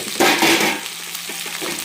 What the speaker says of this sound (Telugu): కొద్దిసేపు నూనెలో ఫ్రై అవ్వాలి.